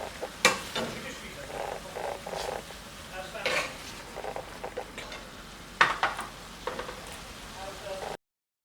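Tomato pieces cooking in a pan of prawn pathia, a soft steady sizzle broken by occasional stirring scrapes and clinks, close but fairly quiet.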